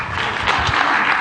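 An audience at a bowling and events center applauds, a dense wash of clapping from many hands throughout the short moment.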